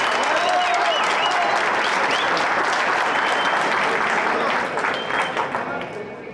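Loud, dense audience applause fills a fight night arena for Ruse fighter Plamen Penchev, steady and full before thinning and fading toward the end, with crowd noise mixed in.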